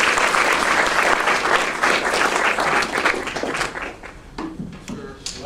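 Audience applause welcoming Ed Lachmann back at a film discussion, dense steady clapping from a crowd that holds strong, then thins and fades toward the end with scattered claps.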